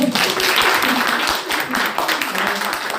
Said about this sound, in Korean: 일단 당선자님 힘내시라고 박수 한번